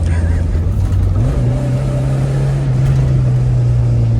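A Tofaş Doğan SLX car drives along with a loud, steady engine drone heard from inside the cabin, its pitch stepping up once as the car gathers speed, while voices talk faintly under the noise.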